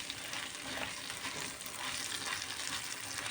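Rice being stirred in a pot together with vermicelli and orzo, a steady close hiss and sizzle of frying grains with soft scraping running continuously throughout.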